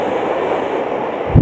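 A KRL Commuter Line train rolls toward JIS station, giving a loud, steady interior rumble and wheel roar with a brief heavier thump at the very end.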